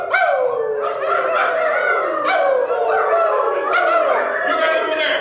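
Many people howling together in imitation of a coyote, loud overlapping rising and falling wails repeated in several waves, the chorus swelling with each new howl.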